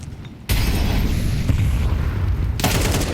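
An HE grenade explodes in a Counter-Strike match between Falcons and Aurora at IEM Kraków 2026 as one sudden loud boom, followed by a sustained, dense roar of blast and gunfire.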